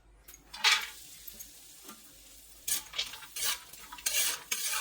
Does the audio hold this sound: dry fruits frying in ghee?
yes